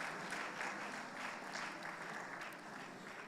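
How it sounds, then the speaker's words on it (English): Conference audience at an annual general meeting giving steady applause, a faint, somewhat distant wash of many hands clapping that continues evenly throughout. "Can we give him a round applause recognition?"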